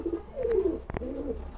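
Pink Kamagar pigeons coo softly at close range, a low, drawn-out rolling call followed by a couple of brief flutters or taps, then another quieter coo, with no talking.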